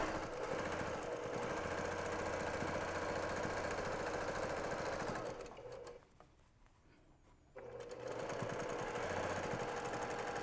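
A sewing machine stitches steadily through a quilted bag, a loud continuous mechanical whir with rapid needle chatter that pauses briefly midway, then resumes for a short backstitch.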